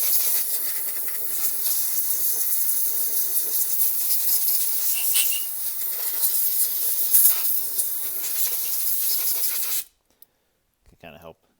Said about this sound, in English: Also, if you have it, a little compressed air.